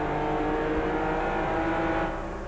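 NASCAR stock cars racing at Richmond at night roar in a loud, continuous engine drone as the pack passes, then fade slightly at the end.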